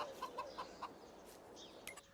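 Chickens cluck in Farming Simulator 22, a handful of short, evenly spaced clucks close by, followed by a few higher squawks, with no talking over them.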